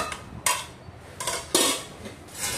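A single-layer stainless steel pot, 22 cm wide and 10 cm deep, handled up close, with several sharp metallic clanks and knocks at irregular intervals and no talking.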